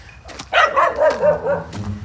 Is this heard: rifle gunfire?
no